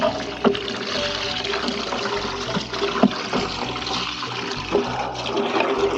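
Running water rinsing a kitchen cutter, a continuous splashing, trickling flow with occasional clanks and knocks of the tool against a surface, close.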